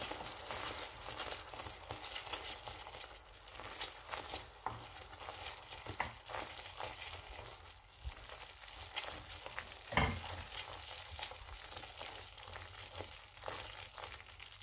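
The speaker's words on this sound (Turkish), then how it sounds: "Devamlı böyle karıştırıyorum." A molasses dessert mixture cooking in a pot crackles and bubbles faintly, with a continuous rhythmic scraping of stirring that is soft and close, and one sharper knock near the end.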